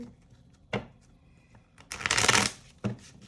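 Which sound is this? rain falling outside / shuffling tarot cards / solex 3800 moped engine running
shuffling tarot cards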